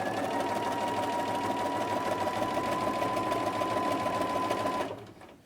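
A sewing machine fitted with a pintuck foot runs steadily, stitching a row of pintucks in a close, continuous mechanical whir that stops abruptly near the end.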